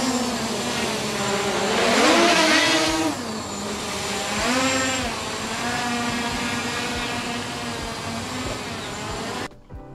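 A DROCON Blue Bugs 3 FPV drone's brushless motors whine and buzz in flight, the pitch swelling and dipping as the throttle changes, fairly close and continuous.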